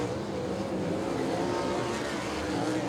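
Race cars lap Tulsa Speedway, a continuous dense engine drone at a distance without distinct passes, with faint crowd or commentary murmur underneath.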